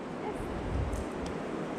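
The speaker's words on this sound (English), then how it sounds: "So excuse the wind noise or the water noise." Steady wind buffets the microphone while flowing water rushes along the Narrows in Zion National Park, a dense, continuous roar with no distinct events.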